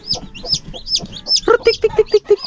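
Rhode Island chickens and chicks on a farm cluck in a steady run of short calls, high chick peeps mixing with lower hen clucks, close and fairly loud with no talk.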